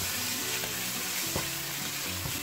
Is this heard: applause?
no